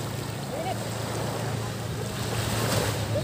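Sea waves wash steadily at Calayo Beach in Nasugbu, Batangas, a continuous surf roar with wind buffeting the microphone, a low motor hum and faint voices murmuring in the background.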